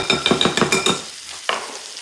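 Chicken being mashed in a bowl for a Chipotle chicken bowl, a quick run of six or seven soft squelching, scraping strokes, then a pause and one more, close and fairly loud with no talk.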